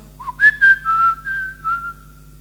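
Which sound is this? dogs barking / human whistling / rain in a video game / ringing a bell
human whistling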